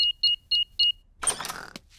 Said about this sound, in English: I'll just switch the alarm off.